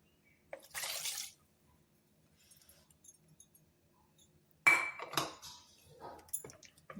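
Hot tempering hisses and splutters as it is poured into bottle gourd handvo batter, with one short sizzling burst, a quiet pause with faint clinks, then a louder sizzle tailing off.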